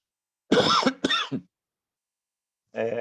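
A couple of rough coughs followed by a short throat clearing, close by, then a brief moment of voice after a pause.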